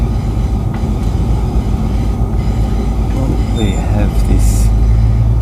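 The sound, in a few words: CBH grain train passing on the rails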